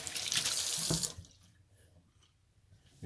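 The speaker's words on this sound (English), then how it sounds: "Rinse my hands off." Kitchen tap water running loudly over hands for about a second while rinsing off salt during cooking, then cutting off to a quiet room.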